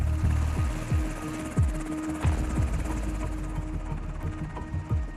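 A helicopter hovers nearby, its rotor beating in a steady rhythmic thump over a low engine drone.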